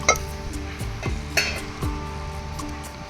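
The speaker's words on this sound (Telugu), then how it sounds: "అల్లం వెల్లుల్లిపాయ పేస్ట్ చక్కగా ఫ్రై అయిపోవాలి." Ginger garlic paste frying with softened onions in a pan for a boondi curry: a steady low sizzle broken by the sharp clinks and scrapes of a spoon stirring against the pot every half second or so.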